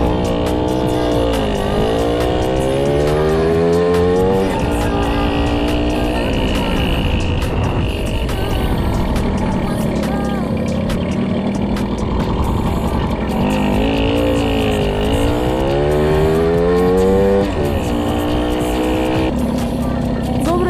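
A small-engined vehicle fitted with a Dellorto 16 carburettor and a drilled exhaust runs flat out at top speed, its loud engine drone rising and falling in pitch through gear changes, with a voice talking over it.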